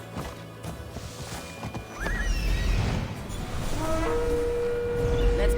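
A horse in Assassin's Creed Odyssey breaks into a gallop and lets out a rising whinny, with rapid hoofbeats rumbling underneath that build louder toward the end.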